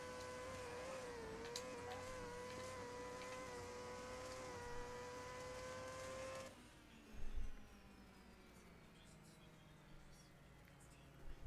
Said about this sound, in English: Maybe he just hates how noisy this car is.